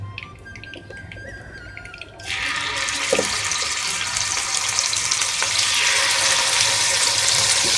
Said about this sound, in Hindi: देखिए मैंने सब चिकन पीसेस को पैन में फ्राई कर रही हूँ।